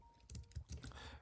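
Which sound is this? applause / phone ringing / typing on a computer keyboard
typing on a computer keyboard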